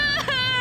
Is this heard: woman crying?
yes